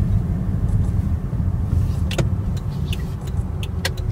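A car on a quiet residential street in Guam: steady low engine and tyre rumble running throughout, with a few faint light clicks and knocks toward the end.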